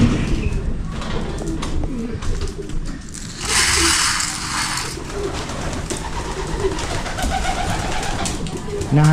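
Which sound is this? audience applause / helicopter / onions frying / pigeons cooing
pigeons cooing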